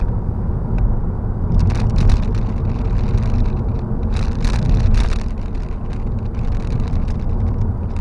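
Steady wind and road rumble fill the cabin of a 2015 Honda Civic at speed, a continuous broad whoosh with brief gusty surges, heard alone with no talk.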